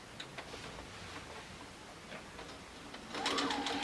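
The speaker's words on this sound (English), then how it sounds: "we're going to sew and make sure to lock our stitches. So let's go ahead and do that on the machine" A sewing machine stitches a seam on a small fabric pincushion, a faint, fast mechanical whirr with light ticking that grows louder near the end.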